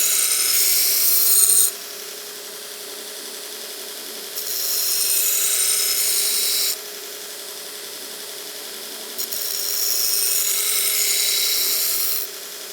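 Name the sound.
belt grinder polishing railroad spike knife blade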